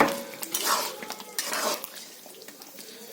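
Chicken meat for a curry is stirred in a cooking pot, with close metallic scrapes and clinks of a spoon in quick bursts that fade to quieter stirring, and no talking.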